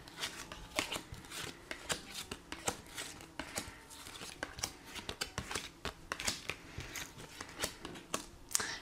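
Tarot cards being shuffled by hand for a reading, a rapid irregular series of crisp riffling snaps and soft paper flutters, close and moderately loud, continuing throughout with no voices.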